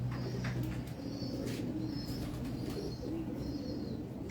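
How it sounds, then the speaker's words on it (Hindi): Pigeons coo steadily in a loft, their low rolling calls close and continuous, with occasional higher chirps and faint rustling in the background. "पुराने कबूतर हैं।"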